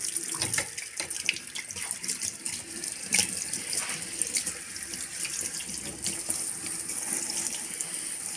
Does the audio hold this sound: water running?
yes